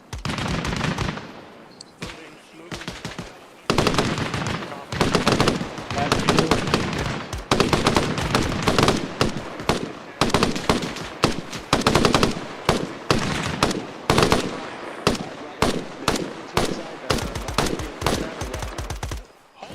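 Rapid bursts of gunfire during an infantry training exercise, loud close-range volleys and single shots crackling repeatedly in uneven rhythm with short pauses, voices shouting between the shots.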